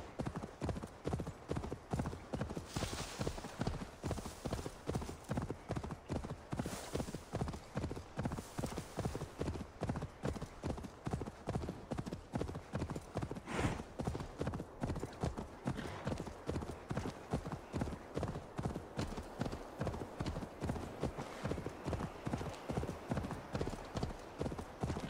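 Steady clip-clop of horse hooves in Assassin's Creed Valhalla, a continuous even trot running loud and close throughout with occasional brighter accents, no voices over it.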